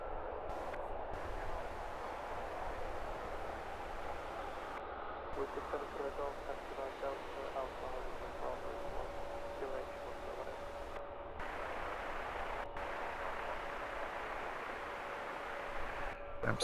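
An airliner roars down the runway and lifts its nose at Luton Airport, a broad, sustained jet rumble at a moderate distance, with someone talking over it throughout.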